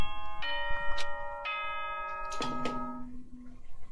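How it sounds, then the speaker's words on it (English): A school announcement chime rings out in the video game Danganronpa: Trigger Happy Havoc, a sequence of bright, ringing bell-like tones in a ding-dong pattern, each note sustained and fading, heard alone without speech. "Ding dong bing bong."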